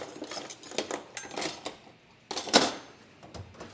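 Kitchen utensils clattering and clinking as someone rummages for a whisk, irregular metallic rattles and knocks in bursts with one sharper clatter, close and alone.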